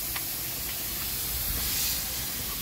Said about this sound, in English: So we'll just crack that and put steam into the LP so that one can get its fair share.